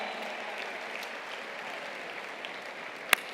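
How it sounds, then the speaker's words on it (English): A seated audience at a talk applauds steadily, a continuous wash of many hands clapping at moderate distance, with one sharp, louder clap near the end. "I want you to stand up and give yourself an applause."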